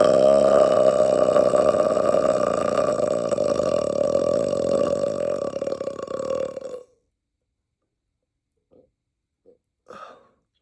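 A single long, loud, droning burp from someone eating corn and tacos lasts about seven seconds close to the mic, then stops abruptly, followed by near silence and a few faint breaths or small mouth sounds.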